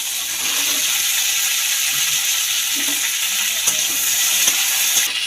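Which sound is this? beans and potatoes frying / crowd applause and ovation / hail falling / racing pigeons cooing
beans and potatoes frying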